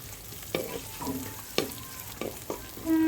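Onions sautéing with curry leaves in a pan while being turned until golden, a steady sizzle broken by several sharp scrapes and knocks of the spoon, close and moderately loud.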